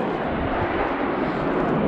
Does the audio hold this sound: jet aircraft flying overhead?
yes